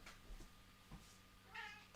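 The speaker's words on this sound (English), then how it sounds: "I just got to let my cat out quickly." A house cat meows faintly, asking to be let out, with a drawn-out meow toward the end after softer sounds, all very quiet against a low background hum.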